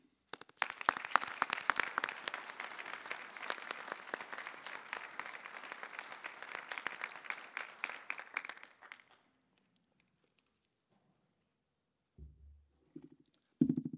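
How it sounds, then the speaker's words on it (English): An audience at a winter graduation convocation claps warmly in a sustained round of applause for about nine seconds, fading out into near silence with faint room noise. "You deserve a warm round of applause from all of us"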